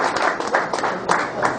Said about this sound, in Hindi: सामने सामने सामने सब तालियां बजा लीजिए